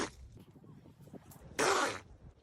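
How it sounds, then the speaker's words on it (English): A seal sneezes once, a short loud burst of breathy noise standing out sharply from quieter background sounds. "This is what a seal sneeze sounds like."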